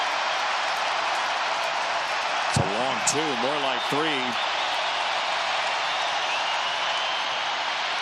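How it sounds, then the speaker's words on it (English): A packed stadium crowd at an NFL game between the Lions and Commanders roars loudly and continuously under a commentator's voice, with a couple of sharp thuds partway through. "Crowd as loud as it's been all day."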